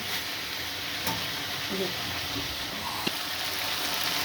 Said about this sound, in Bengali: বেশ খানিকটা গোলমরিচের গুঁড়ো দিয়ে এবার মাংসটা আরেকটু সেদ্ধ করে নিতে হবে